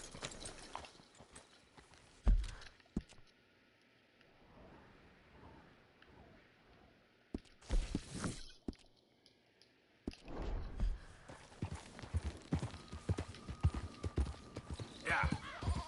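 Horse hooves clip-clop in the video game Red Dead Redemption 2, steady rhythmic hoofbeats on hard ground with rain and occasional thunder, while voices talk over parts of it.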